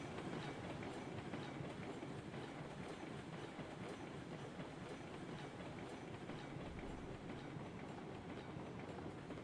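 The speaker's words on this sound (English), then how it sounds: "running down a train that's moving by you and you kind of stay in the same spot" A train rolls continuously past in the Railroads Online game, a steady rumbling clatter of wheels on rails with a faint rhythmic clickety-clack, even and sustained throughout, no talking.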